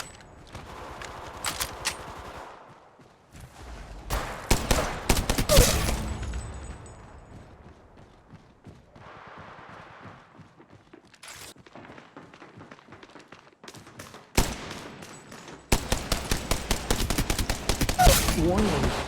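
Gunfire in Apex Legends Mobile comes in rapid bursts of loud, close automatic shots, with quieter gaps between volleys and a final sustained stretch of fire, while an in-game voice calls out now and then.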